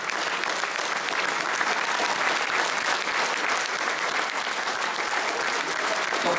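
Audience applause after a military band concert by the 9th BIMA of Poitiers, a dense, steady wash of clapping from a large crowd lasting the whole stretch.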